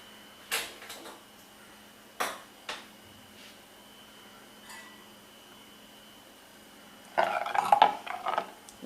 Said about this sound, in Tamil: இந்த கல் சட்டியை தூக்கி அடுப்பில் வச்சு